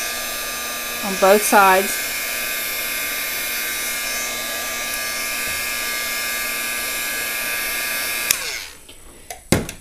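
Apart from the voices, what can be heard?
heat tool blowing hot air to dry a craft flower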